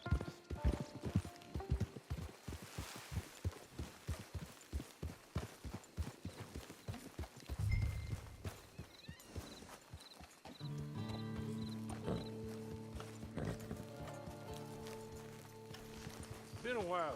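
Horse hooves in Red Dead Redemption 2 clop in a quick steady rhythm for several seconds, then slow and stop as the horse halts, with a brief snort, someone talking over the top and game music rising toward the end.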